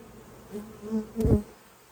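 Honey bees buzzing around an open hive super during an inspection on a hot day, faint close humming with a few individual bees droning past, ending in a brief louder thump or rustle; no talk.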